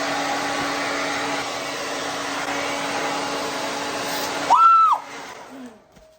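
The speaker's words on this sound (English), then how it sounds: "I just stick this on my head and connect it to my blow dryer, and then I turn it on" A blow dryer fitted with a hood attachment runs in a steady, loud broadband whoosh while drying locs, then cuts off abruptly near the end with a falling whine as the motor spins down.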